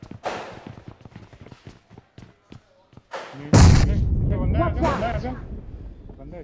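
A grenade blast in the mobile game BGMI, a heavy booming thud midway that trails into a loud rumbling wash, with people talking before and over it.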